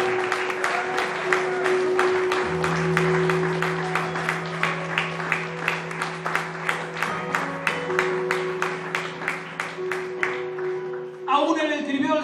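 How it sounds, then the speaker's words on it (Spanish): A church congregation claps together in a steady, rapid rhythm for several seconds, loud and full, with sustained musical tones beneath; near the end the clapping gives way to a voice speaking. "Aplaudile, Señor. Aplaudile fuerte."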